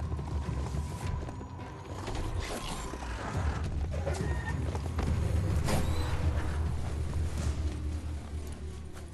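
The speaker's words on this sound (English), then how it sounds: "You need to loosen the bolts without unsettling it." Bolts loosened on a machine in the Biomutant video game, with creaking, ratcheting mechanical clanks and scrapes layered over a steady low game ambience, no voices.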